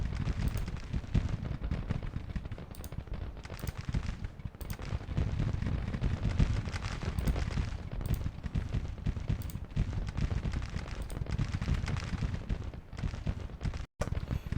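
Massed musket volleys from a whole Civil War division in Grand Tactician: The Civil War, a dense continuous crackle and rumble of distant gunfire rolling on without pause, with no voices over it.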